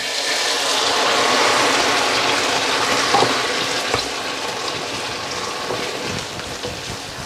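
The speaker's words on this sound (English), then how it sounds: "I'm just going to add a little bit of water to this" Water poured into a pan of golden brown frying onions for chicken liver masala curry, a loud burst of sizzle and rushing hiss that gradually settles into a softer bubbling simmer.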